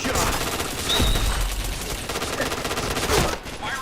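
Rapid, dense gunfire from the PointBlank online shooter game, with loud overlapping shots and automatic bursts rattling almost nonstop throughout.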